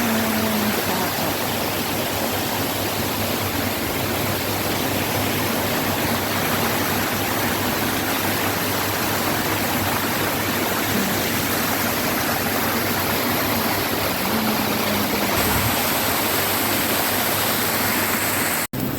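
A mountain stream rushes steadily beside the foot of a waterfall, a dense continuous wash of water heard close and loud throughout with no talk.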